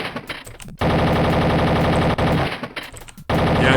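Video game gunfire fired at long range, rapid automatic bursts of machine gun shots in dense rattling volleys separated by brief gaps, loud and continuous without speech.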